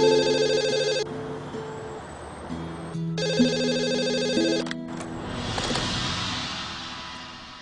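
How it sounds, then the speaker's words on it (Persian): Telephone rings in a home scene, a bright electronic ringtone repeating in bursts with short gaps, while background music and movement continue underneath. "تلفن زنگ میزنه، زود باش"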